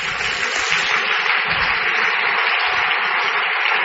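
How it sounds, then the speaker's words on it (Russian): Congregation applause in a church, dense steady clapping at full level throughout with no voices over it. "Дай Богу аплодисменты."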